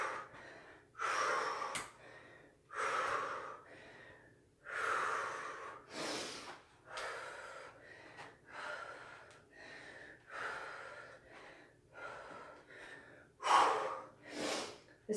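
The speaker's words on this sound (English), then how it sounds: "Focus on your breathing." Slow, deliberate breaths during a workout cool-down, close to the microphone: a steady series of long inhales and exhales with short pauses between, calm and rhythmic, some with a slight nasal snort.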